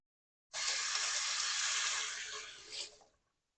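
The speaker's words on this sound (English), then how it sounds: "Let me wash my hands" Hands washed under a running kitchen tap, a steady close rush of water that starts abruptly, holds for about two and a half seconds, then tapers off.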